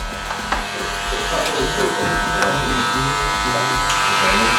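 Electric hair clippers buzz continuously and loudly while cutting a skin fade, a steady close whine with light scraping as the blade works through the hair, and someone talks over it.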